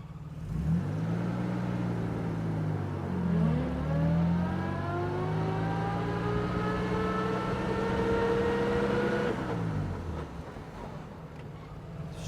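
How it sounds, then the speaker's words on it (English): A 1951 Jaguar XK120 open two-seater drives with its top down, the engine droning steadily and rising in pitch as it pulls through a gear, then dropping off as revs fall near the end. "Let's go for a drive in the 1951 Jaguar open two-seater."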